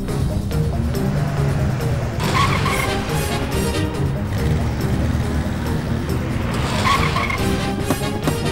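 A car roars off with loud tire squeals and skidding, the engine revving hard under a dense, loud mix of screeching rubber and motor noise, with a movie score playing.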